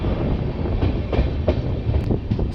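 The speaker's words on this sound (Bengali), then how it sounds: "সকাল সাতটা বেজে ২৬ মিনিটে ট্রেন একলাখি জংশন এন্টার করছে" LHB-coach Tebhaga Express train rolling into Eklakhi Junction in the early morning, a steady rumbling run with repeated wheel clacks over rail joints, heard close and continuous with no talk.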